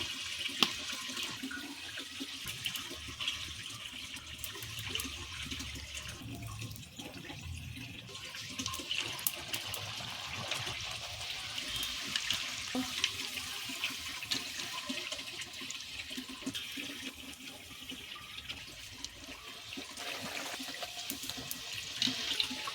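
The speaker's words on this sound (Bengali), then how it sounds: "এরকমভাবেই রোজ কেকগুলো ভেজে নেব।" Rose cakes (phool pithe) deep-fry in hot oil with a continuous bubbling hiss that stays fairly soft and even throughout, with no voices.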